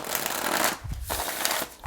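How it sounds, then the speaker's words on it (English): Tarot cards are being shuffled close up, a dense papery riffling that comes in repeated bursts with brief pauses between them, loud and alone. "as I'm shuffling the cards."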